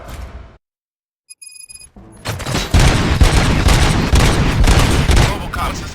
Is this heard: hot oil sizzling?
no